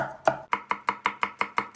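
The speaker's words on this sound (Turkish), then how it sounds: "malzemelerini çok ince doğrayacağız" A knife finely chopping vegetables for a four-serving spaghetti dish, striking a board in about nine steady, evenly spaced crisp chops, close and clear, with no voices.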